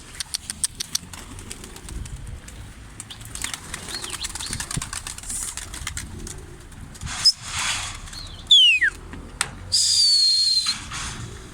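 Pigeons flap their wings in bursts as they arrive at a rooftop platform above a shanty house, the flutters loud and close, with sharp whistles and a few coos in between.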